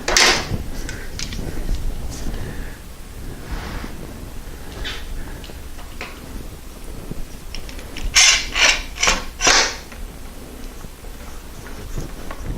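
Clamps being tightened on a glued wooden fireplace mantel give off scattered ratcheting clicks and clunks over quiet room tone, ending in a louder cluster of four or five sharp mechanical bursts.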